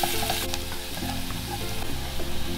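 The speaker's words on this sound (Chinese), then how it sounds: "另外起锅，把蒜蓉放下来煸香。" Minced garlic sizzles and crackles steadily as it stir-fries in a hot wok, a close, continuous frying hiss with a few sharp pops, no talking.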